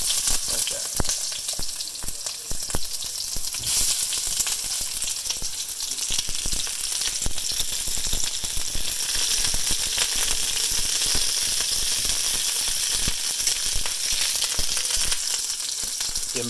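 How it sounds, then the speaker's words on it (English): Close, continuous crackling sizzle of vegetables frying in a hot pan, with occasional light clatter of stirring. "Hear that kind of frying on the bottom."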